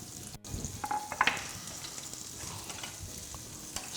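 Basil, oregano, dill and garlic sizzle in a pan while a utensil stirs them, a quiet steady frying hiss with a few soft scraping clicks, no voices.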